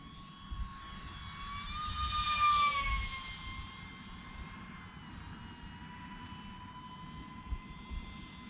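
An E-flite UMX MiG-15 28mm EDF model jet makes a speed pass with a high whining ducted-fan tone that swells as it comes close, then fades and keeps whining in the distance.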